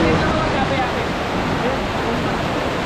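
Kalu waterfall and its river flowing on a valley trek make a loud, constant broadband rush of water with no break or change.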